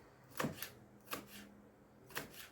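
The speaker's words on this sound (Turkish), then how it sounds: "Tıpkı bir yemeğe doğrar gibi minnacık minnacık bunları doğrayacağım." A knife chops vegetables finely on a board for a homemade tomato sauce, three separate sharp clusters of cuts about a second apart, close and fairly quiet.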